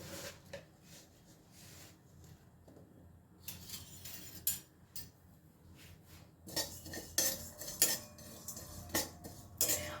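Whole cinnamon, cardamom, cloves and cumin seeds dry roasting in a pan, heard as a spoon scraping and clinking against the metal in uneven bursts, sparse at first and busier toward the end, with no talk.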